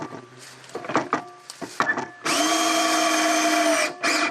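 A power drill drives 2.5-inch deck screws into a wooden post outdoors. Short bumps and taps come first, then a loud, steady whine that runs for nearly two seconds, followed by a brief second burst.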